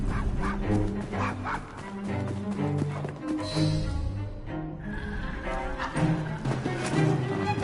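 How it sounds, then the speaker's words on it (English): A dog barks and yips repeatedly in Assassin's Creed Syndicate, close and loud in an irregular string of barks with whimpers, over game ambience and some clip-clop of hooves. "Shut up, dog!"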